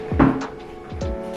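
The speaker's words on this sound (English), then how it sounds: "So I'm thinking I'm going to move these drawers right there." Drawers for a nail-room desk are shifted in place, giving two close wooden thunks about a second apart, with a short rattle after the first and no talking.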